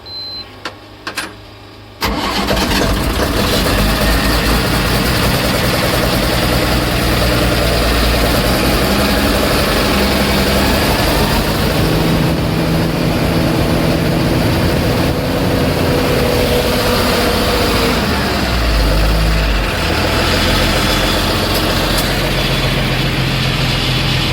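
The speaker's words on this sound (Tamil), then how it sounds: "வண்டியோட ஒர்க்கு முடிஞ்சிச்சு மக்களை ஸ்டார்ட் பண்ணியாச்சு" A repaired vehicle's engine cranks and catches after a short quiet moment, then settles into a steady, loud, close idle that runs on unbroken, with no talk over it.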